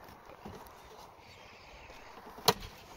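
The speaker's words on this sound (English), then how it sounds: "Oh, I've just snapped a clip." A plastic door card clip snaps on a Volkswagen Lupo while the door card is being worked on, giving a single sharp, crisp click in an otherwise quiet space.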